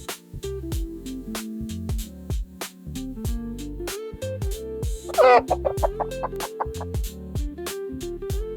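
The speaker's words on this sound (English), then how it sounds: "In English, we say chicken." A chicken clucks in a short burst of clucks over a steady, bouncy music backing.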